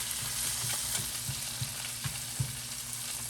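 Salmon pan-searing in butter sizzles with a constant bright hiss, with soft low knocks and taps from the pan as it is moved.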